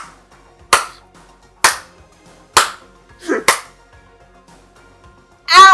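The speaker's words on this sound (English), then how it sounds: "Because you clap with your entire force." Four sharp, forceful hand claps ring out at roughly one-second intervals, then a quick double clap and a final burst at the end, close and loud against near silence.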